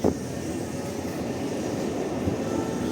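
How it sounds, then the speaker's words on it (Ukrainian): Tram number 3 in central Lviv, Ukraine, pulls in with a steady rumbling, grinding rail roar that holds close and fairly loud for the whole moment, opening with a short sharp knock. "Трамвай номер 3 під'їжджає."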